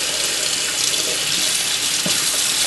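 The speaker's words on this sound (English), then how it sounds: "rinse it off, rinse all the sea salt water off" Tap water runs steadily into a sink while seafood is rinsed of sea salt, a loud continuous splashing stream with brief shifts where hands move through the flow and no talking.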